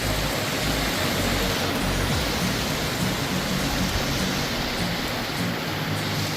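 Dense, steady rainfall hisses evenly throughout, a constant wash of noise with no pauses or voices.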